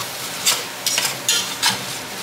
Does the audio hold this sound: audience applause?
no